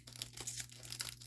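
Scissors and hands work at a small Temu package, giving soft plastic crinkles and tearing sounds in quick irregular bursts with a faint steady hum behind.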